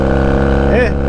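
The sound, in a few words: Honda Rebel 250 motorcycle with loud exhaust pipes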